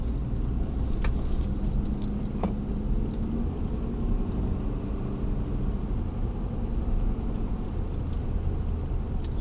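A three-quarter ton pickup truck driving over a road with frequent speed bumps, its engine a steady close rumble throughout with occasional clinks and rattles from inside the cab, no talking.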